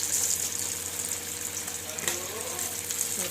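Fish pieces for fish pulusu frying and simmering in a pan, a steady close sizzle with a faint clink midway and no talk.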